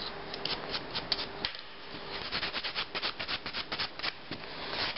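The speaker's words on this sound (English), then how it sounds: "I just angle my file downwards" Repeated short rasping strokes of a nail file angled downward to taper an acrylic nail, a close, soft scratchy rhythm with a brief pause partway through.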